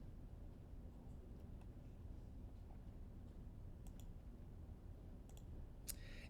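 A computer mouse clicks a few times while navigating database software, each click faint and sharp over a steady low room hum, with a quick double tick near the end.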